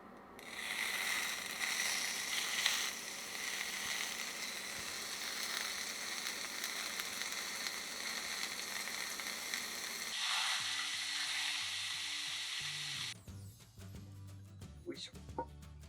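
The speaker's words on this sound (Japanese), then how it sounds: "お肉の中の水が熱いものに当たったとき、その水が弾けるジュージューの音をお聞きください。" Meat searing in a hot frying pan, water in it spattering into a dense, steady sizzle heard close up for about ten seconds, then fading into quieter crackles with some other sounds.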